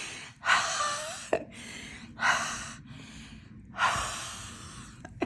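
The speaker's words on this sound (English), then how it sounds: "And you just blow your breath up." Several close, breathy huffs blown onto a rubber stamp in quick succession, each a soft airy exhale with faint taps in between.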